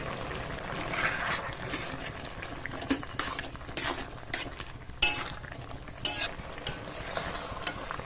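Ridge gourd and potato curry with poppy seed and cashew paste simmers in a pot, a quiet bubbling under occasional stirring clinks and utensil taps.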